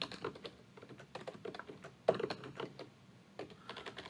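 Quiet, steady typing on a computer keyboard while writing Java code, with irregular bursts of soft key clicks, one sharper keystroke in the middle and brief pauses, close and faint with no voices.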